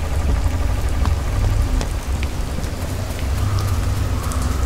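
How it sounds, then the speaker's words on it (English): Heavy rain pours steadily outside a remote woodland fire lookout, a dense continuous hiss with scattered louder drops, close and loud with no voices. "It's really raining outside today."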